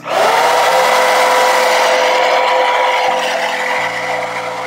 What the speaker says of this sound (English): And then I'm gonna blow dry it with the band on.